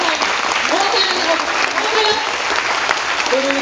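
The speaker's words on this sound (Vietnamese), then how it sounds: "Các bạn, vỗ tay lên." Sustained audience applause fills a lecture hall at a talk on finance, steady and dense for the full stretch while a voice speaks over it.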